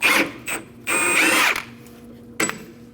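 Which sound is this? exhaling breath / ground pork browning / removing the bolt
removing the bolt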